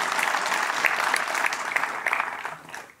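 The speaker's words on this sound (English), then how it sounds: "A special applause to all of you." A short burst of steady, close applause from an audience at the ribbon cutting for an ice and entertainment center, many hands clapping together before trailing off.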